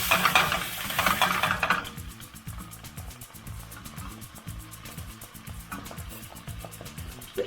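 White wine is poured into a hot pan of seafood pasta. A burst of loud sizzling fades to a steadier bubbling fry with stirring scrapes, close up.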